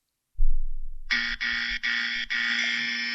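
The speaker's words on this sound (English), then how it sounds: "Okay, Mo, that's your buzzer." A harsh electronic game-show buzzer sounds four times, each blast loud and sustained, and the last one runs longest. Faint low handling noise comes just before the first blast, and no one speaks.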